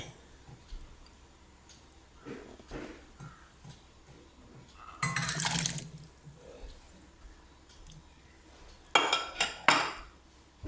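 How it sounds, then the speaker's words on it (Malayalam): Metal pot clanks and water sloshes, with two louder bursts of clattering as a pot of water is handled and set down. "ഇതേപോലെ ഒരു പാത്രത്തിൽ വെള്ളം വെച്ചിട്ട് നമുക്കിത് അടുപ്പയിലോട്ട് വെക്കാം"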